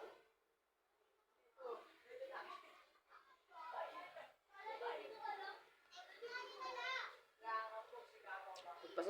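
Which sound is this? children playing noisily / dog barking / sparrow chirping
children playing noisily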